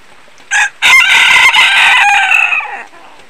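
A wild junglefowl rooster crows out in the rain, a short call followed by a loud, clear, drawn-out crow close by.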